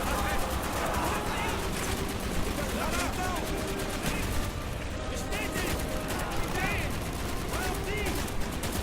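Rapid bursts of PPSh submachine gun fire in Call of Duty: Black Ops keep up a dense, continuous rattle with game sounds layered throughout.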